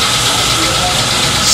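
An owner-type jeep's 4D56 diesel engine idles with a steady, loud rumble and rattle at close range, and someone talks over it.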